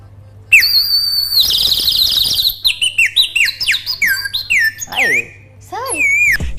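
A sound effects artist's voice imitates bird calls: a run of high chirps, trills and rapid tweets, close and loud over a low steady hum, with brief pauses between phrases.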